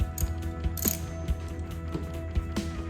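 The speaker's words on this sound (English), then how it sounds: "start ratcheting the tool" A valve spring compressor tool being ratcheted on a 3800 Series II cylinder head, a string of close, crisp metallic clicks in an uneven rhythm over a low steady hum, with no talking.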